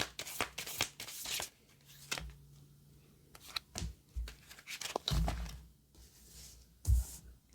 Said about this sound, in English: So give them a little bit of a shuffle and we'll get our 5 cards.